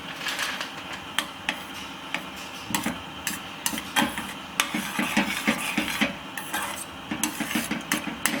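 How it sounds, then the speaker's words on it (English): A spoon stirs 75 grams of butter and a tablespoon of golden syrup melting slowly in a pan over low heat, giving repeated close scrapes and clinks against the metal with a soft background hum, no talking. "Just to give it a stir every now and then, just to make sure it doesn't burn."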